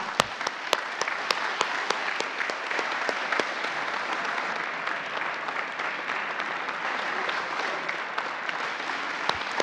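Sustained applause from an audience at an annual meeting, honouring the case managers, dense and steady for the whole stretch with a few sharper claps standing out near the start and end.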